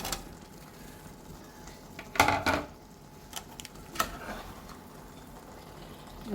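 Chickpeas stirred in a pan for a curry, a few scraping, clattering bursts of utensil against metal with quiet gaps between, close and moderately loud.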